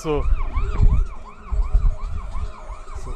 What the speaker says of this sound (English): We can hear the sirens. And the ambulance is here at the Stock Farm playing field.